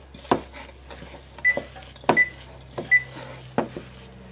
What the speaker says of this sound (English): There, I started the oven for you.